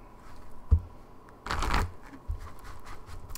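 Romance angel cards are being shuffled by hand in close, quiet bursts. A sharp tap comes first, then a louder riffle of card shuffling, then softer shuffling with no talking.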